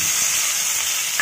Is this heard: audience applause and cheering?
no